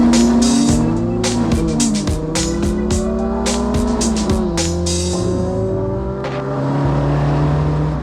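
A Ford Cortina estate with a Cosworth V6 engine, weighing 1.7 tons, drifts sideways on the street, its engine roaring and revving loudly while the tires squeal continuously and close by, with no talking.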